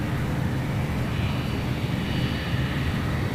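A BAE 146 airliner taxiing past at Sydney Airport, heard as a steady low jet rumble with a soft whine above it, moderately loud and even throughout.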